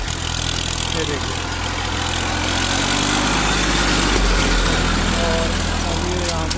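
A Massey tractor pulling a tiller across a field, its engine running in a steady, loud, continuous drone that holds throughout with a low rumble underneath.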